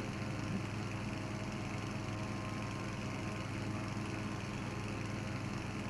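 A motorbike engine in a video game on the Erangel map drones steadily at a constant buzzing pitch, unbroken for the whole stretch, with no talking.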